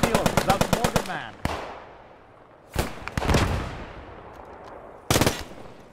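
A German machine gun in Post Scriptum fires a rapid burst, then single heavy shots and another short burst ring out with long echoing tails across open ground, close and loud.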